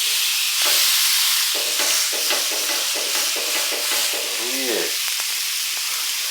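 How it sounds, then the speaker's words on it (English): A Denver steak sears on a hot grill plate, giving a loud, steady sizzle throughout with a few bumps and scrapes of handling. Brief speech is heard around the hiss. "now that I got my grill plate hot, let's get our steak on there"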